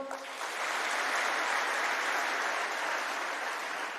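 Audience applause at a Marathi motivational lecture, building quickly into a loud, sustained burst of clapping that holds steady for several seconds before easing slightly, with no speech over it.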